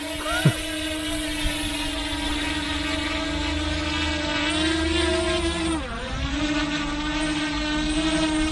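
A LYZRC L100 low-cost bicopter drone spins up and lifts off, its steady, loud motor whine holding a constant pitch with a brief dip partway, while a voice speaks faintly underneath.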